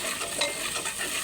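Pumpkin and Malabar spinach fry in a pan with shrimp-head paste, giving a steady close sizzle as the mix is stirred for a brief moment, with no voices.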